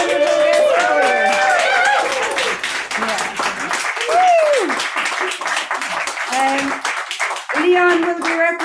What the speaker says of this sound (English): give a massive, big, huge round of applause once again to Leon Dunne